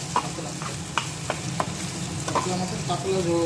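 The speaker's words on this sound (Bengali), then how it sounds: "পাঁচফোড়ন কাঁচা লঙ্কা দিয়ে দেখো কষিয়ে নিলাম" Panch phoron and green chili are fried in a pan before making a thin catla fish curry, a steady close sizzle with several distinct spoon taps and stirring scrapes across it.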